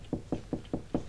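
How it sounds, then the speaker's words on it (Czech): Five evenly spaced knocks rap on a door in a Czech comedy sketch, firm and close, in a quick steady rhythm with no voices over them. "Zaklepejte ještě jednou."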